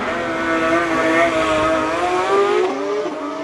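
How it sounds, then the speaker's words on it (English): A black Porsche GT3 race car launches off the start line at the Speed Classic Cape Town hill climb, its engine revving hard through rising gear pulls, loud and close, then shifting upward as it pulls away. "Beautiful black GT3 launches off the start line."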